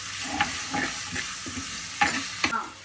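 Ragi flour dough being stirred in a hot pan, a run of scraping strokes with soft sizzling between them, fairly close and alone, the last strokes sharper before the sound drops off.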